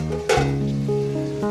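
Liver pieces fry in a pan in a home kitchen, a steady sizzle with a brief clatter of stirring, while a strong tonal hum runs through the short stretch.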